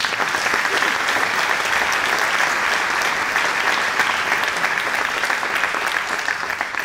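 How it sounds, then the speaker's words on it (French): Steady theatre audience applause for actor Stéphane Wojtowicz, a dense, even wash of clapping held at one level from start to finish with no voices over it. "un excellentissime comédien, on peut l'applaudir, Stéphane Wojtowicz"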